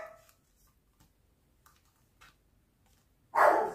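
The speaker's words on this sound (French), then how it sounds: "j'ai mon chien qui était en train d'aboyer." A dog at home lets out one loud, close bark at the very end, after several seconds of near silence with only faint small noises.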